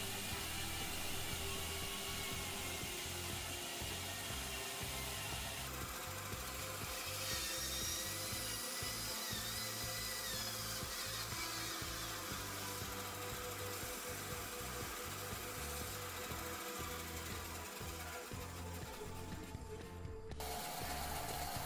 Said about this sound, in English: Using the bandsaw I am completing the tenons.